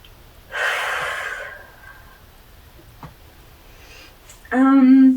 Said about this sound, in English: And one last big deep breath.